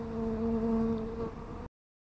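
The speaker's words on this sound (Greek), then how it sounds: "Μιλάω και οι μέλισσες περνάνε δίπλα στο στόμα μου." Bees buzz around a beekeeper at a mountain apiary, a faint, steady droning hum that wavers slightly in pitch and lasts under two seconds.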